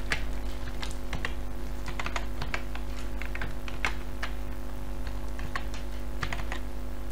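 Password typed on a computer keyboard, with crisp, close key taps in quick irregular bursts over a steady low electrical hum, and nobody speaking.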